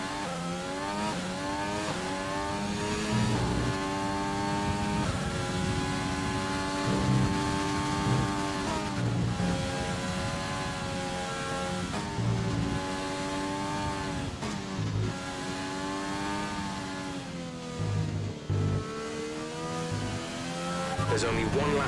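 A race car laps Circuit of the Americas in a racing video game, its engine droning loudly and steadily with rising and falling revs and gear changes throughout, close and continuous.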